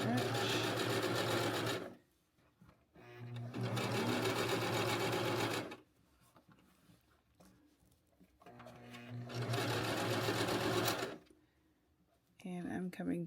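A sewing machine stitches fabric in three steady whirring bursts separated by short pauses, with someone speaking in the gaps and another brief run starting at the end.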